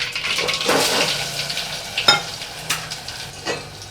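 Potatoes being added to hot oil with crackling mustard seeds, cumin, curry leaves and asafoetida, producing a bright, close sizzle with stirring scrapes and a few sharp splutters.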